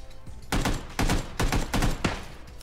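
Gunfire in the video game PUBG: five loud bursts of rapid shots spaced roughly half a second apart, each a short sharp volley standing alone with no talk.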